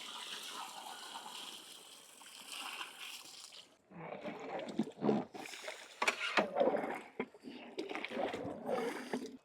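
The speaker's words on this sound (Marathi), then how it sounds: "बटाटे शिजण्याकरिता आपण इथं पाणी टाकून घेऊ" Water splashes and gushes into a pot of potatoes and brinjal sautéed in spices in uneven bursts after a quieter stretch of sizzling, loud and close.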